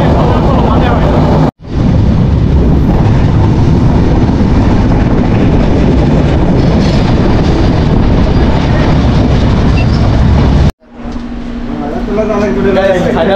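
The Chitra Express passenger train runs from Alamdanga toward Dhaka's Kamalapur station with a loud, steady rumble and rattle from on board. The roar cuts out abruptly twice, and muffled voices sit under the noise.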